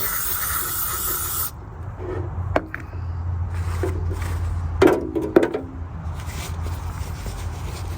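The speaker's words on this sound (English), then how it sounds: "we're just going to go ahead and spray it down with our cleaner here" A loud broadband hiss of aerosol cleaner sprayed onto a Ford Fiesta throttle body bursts for about a second and a half, then cuts off, leaving quiet handling noises and a few clicks.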